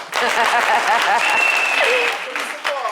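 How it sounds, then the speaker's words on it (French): An audience bursts into applause for the Baoulé, dense clapping over cheers and voices that holds steady and then dips briefly near the end. "Applaudissez pour les baoulés."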